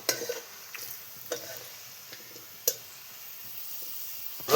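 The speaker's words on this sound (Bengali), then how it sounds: "এবার পেঁয়াজটাকে ভালো করে ভাজি নিব।" Chopped onions fry in oil in a village-style egg curry pan, giving a faint, steady sizzle broken by a few sharp scrapes and clacks of a stirring spoon, with no voices.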